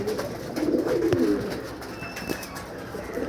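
Pet pigeons coo nearby in low, repeated throaty phrases, with soft rustling around them.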